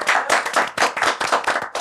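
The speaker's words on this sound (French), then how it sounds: "applaudissements pour nous." A small group of people claps in quick, uneven bursts, a short lively round of applause close to the listener.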